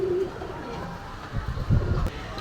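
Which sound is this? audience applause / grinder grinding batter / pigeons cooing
pigeons cooing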